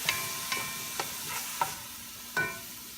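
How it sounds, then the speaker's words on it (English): Garlic frying in a pan of oil for paksiw na pata, a steady close sizzle broken by a few sharp clacks of a utensil stirring against the pan. "Now this time we can add our garlic."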